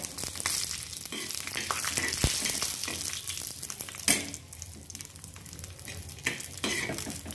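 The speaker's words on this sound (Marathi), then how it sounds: "खोबरं आपलं छान परतून घ्यायचे. बघा सोनेरी कलर येतोवर." Grated coconut is sautéed in a little oil until golden, giving a soft continuous sizzle with frequent scraping stirs and occasional clinks close by, and no talking.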